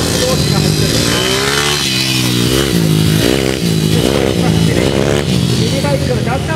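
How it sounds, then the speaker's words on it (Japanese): Honda Grom mini motorcycles racing through a pylon course at a 2024 Ehime Dunlop riding event, engines buzzing and revving up and down in rising and falling pitches, loud and close. "まずはミニバンス同士が走っています。"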